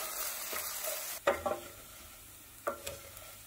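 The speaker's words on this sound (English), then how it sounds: "Toast the rice over a medium-low heat until it's golden brown and aromatic." Dry rice toasting over medium-low heat in a pan with a faint sizzle, broken by a few distinct scrapes and stirs of a utensil against the pan.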